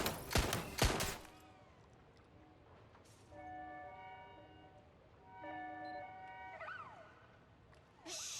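Gunfire in the Watch Dogs Legion video game, a quick loud burst of shots at the start, followed by quieter electronic tones and ringing alarm-like sounds in a game scene.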